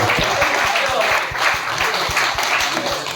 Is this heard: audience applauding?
yes